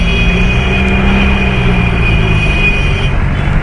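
A dense, steady rumble of road traffic, with engines idling and humming close by and no gaps in the noise.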